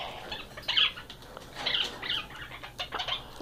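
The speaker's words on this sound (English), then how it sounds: "Fighting birds everywhere." Pet birds scuffle near a cage, with repeated bursts of wing flapping and scratchy rustling alongside soft calls, in short uneven flurries.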